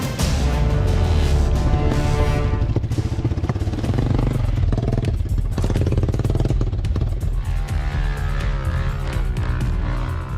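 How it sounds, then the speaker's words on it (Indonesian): Motorcycle engine revving and straining loudly up close while riding a slippery, badly damaged dirt road on an island in Indonesia, a continuous rough roar with rattling clatter throughout. "Jalanan tanah yang licin dan rusak parah membuat ban depan motor yang kami tumpangi beberapa kali tergelincir"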